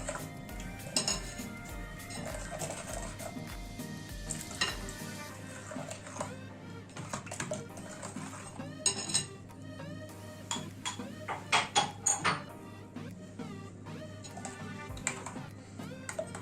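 Pancake batter being stirred in a bowl brings utensil clinks and scrapes against the bowl, close and irregular, with bursts of sharper taps, in a quiet kitchen without talking.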